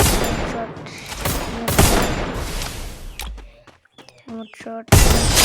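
Rapid video-game gunfire bursts in a shooter match, loud bursts and volleys with a short gap of quieter game effects before a final heavy burst.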